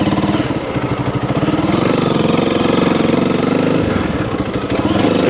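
A Honda CRF300L dual-sport motorcycle engine running steadily off road with its cooling fan on, giving a loud, close, even mechanical chug with a slight pitch shift midway and no talking.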